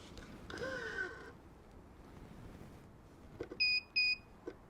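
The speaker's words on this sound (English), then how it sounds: "When it gives you that beep sound, that means that you reach the 50 pounds." A racquet stringing machine gives two short, sharp electronic beeps on reaching tension, preceded by a brief crow-like squeak and faint handling noise.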